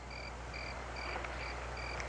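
A frog croaks in a steady repeating series of short pulses, about five evenly spaced calls, fairly faint against a low rumbling outdoor background with no voices.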